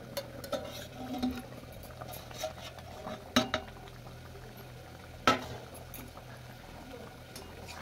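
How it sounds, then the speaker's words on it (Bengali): Chicken and potato pieces boil under a lid in a pot, giving a steady low bubbling with a few sharp clinks of the lid or utensils standing out now and then. "এবার ঢাকা দিয়ে দেবো চিকেনটা আর আলুটা সিদ্ধ হওয়ার জন্য"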